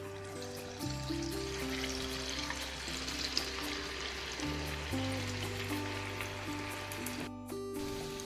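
Cabbage manchurian balls deep-fry in hot oil, a soft, even bubbling hiss beneath louder background music with shifting sustained notes.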